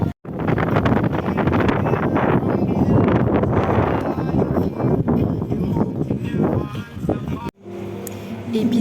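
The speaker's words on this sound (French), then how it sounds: "Mais il y a des vagues, il y a du vent." Wind on a beach with waves, rumbling and buffeting loudly against the microphone under a person talking, before cutting off abruptly near the end.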